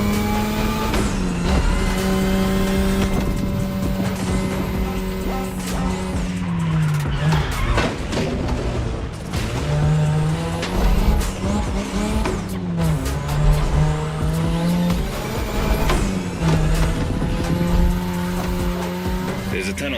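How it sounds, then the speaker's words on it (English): A 2002 third-generation Mazda RX-7 with a rotary engine races loud and continuous in The Crew Motorfest, its high revs rising and dropping through gear shifts, with tire squeals over the steady engine roar. "Tonight your ride is a 3rd Gen 2002 Mazda RX-7. Lightweight, compact, a sick rotary engine, and one hell of a look."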